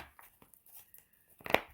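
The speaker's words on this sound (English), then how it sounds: "I'm going to shuffle." A tarot card deck being shuffled by hand: soft, scattered rustles give way to one short, sharp riffling burst near the end, close and fairly quiet, with no talking.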